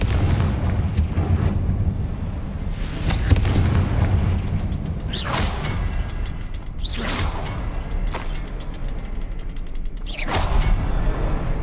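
Confringo spell blasts in the Hogwarts Legacy video game: a loud, dense stretch of repeated booming explosions and whooshes, with several strong bursts spaced a couple of seconds apart over a heavy rumbling bed.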